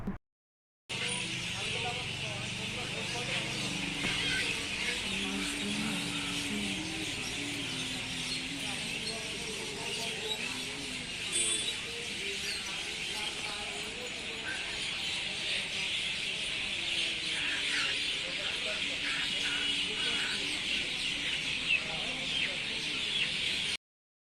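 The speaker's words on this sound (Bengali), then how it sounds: "আর এখানে দেখো পাখির আওয়াজটা জাস্ট শোনো।" Birds calling from trees in an outdoor spot, a dense, continuous chorus of chirps and calls going on throughout, with fowl-like clucking and faint traffic mixed in.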